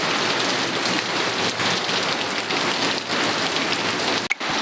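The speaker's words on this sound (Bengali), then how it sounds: "প্রচুর পরিমাণে বৃষ্টি হচ্ছে" Heavy rain pours down outside during a sudden storm, a loud, dense, steady hiss of drops hammering surfaces that fills the whole stretch without a break, with no one speaking.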